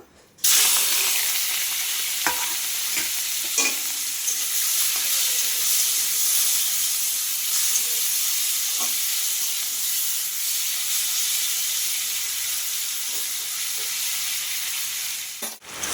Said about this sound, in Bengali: চিংড়ি মাছটা আগে ভেজে নেবো